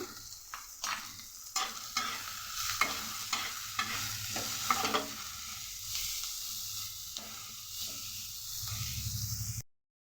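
Onions frying with a little salt in a pan give a steady close sizzle, broken by repeated scraping stirs, before the sound cuts off abruptly.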